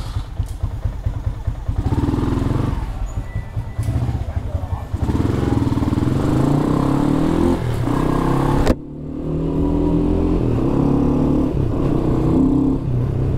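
A modified motorcycle engine runs loud and close, revving and rumbling steadily with a brief cut near the middle before picking up again, without talk over it.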